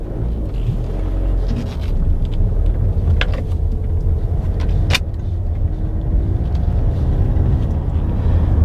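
Ford Edge 2.0L TDCi diesel pulling away, a steady low engine rumble with road and cabin noise throughout, heard from inside at a constant level.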